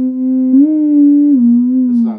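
A Moog Etherwave theremin played through a Zoom G1On multi-effects pedal with effects switched off, giving a clean, steady, wavering sustained tone that bends slightly in pitch, close and alone.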